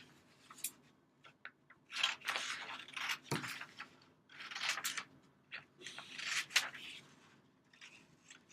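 Scissors snip through a paper sketch in repeated close, crisp bursts of cutting and rustling, with short pauses between strokes.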